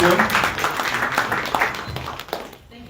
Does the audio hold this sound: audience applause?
yes